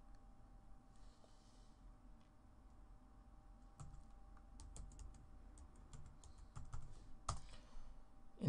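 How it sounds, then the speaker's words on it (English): Typing on a computer keyboard while entering a PowerShell command on a Windows Server 2012 Core machine, with soft scattered key clicks that grow into a denser burst of taps near the end, heard close over a low background hum. "So let's type in PowerShell."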